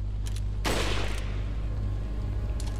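One sharp, loud gunshot from the video game Resident Evil 4 bursts over a steady low background drone, with a few faint clicks before and after it.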